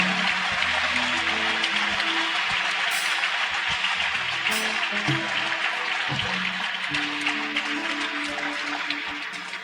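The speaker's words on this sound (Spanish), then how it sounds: "Denle otro aplauso al Rey de Reyes" Church congregation applauding for the King of Kings during a sermon, a dense, steady wash of clapping lasting throughout with faint tonal music or voices underneath, gradually tapering toward the end.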